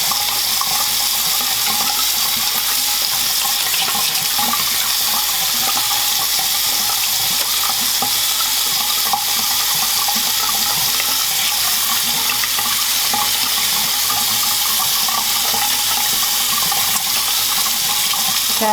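Hands are washed under a running tap with homemade honeybee soap: a steady, even rush of water that flows without a break for about nineteen seconds, with no talking.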